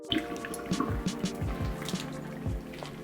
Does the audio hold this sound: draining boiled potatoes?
yes